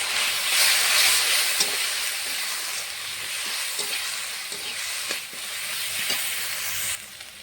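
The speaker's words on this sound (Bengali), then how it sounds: "মশলাটা ভালো করে কষাবো।" Spice paste of Kashmiri chilli powder, turmeric and salt fries hard in hot oil for a bata fish curry with onion and garlic, giving a loud, steady sizzle broken by scraping stir strokes from start to finish.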